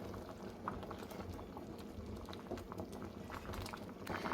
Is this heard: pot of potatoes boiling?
yes